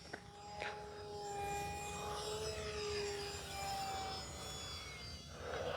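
An E-flite Gee Bee R-2 UMX RC plane flies overhead, its small electric motor giving a thin whining buzz that rises and falls in pitch as it passes, faint and steady with no talk.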